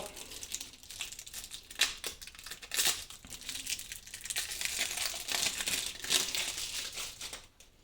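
Yu-Gi-Oh card booster packs being torn open, crisp foil wrappers crinkling and crackling in irregular bursts, close and fairly quiet, with no voices over it.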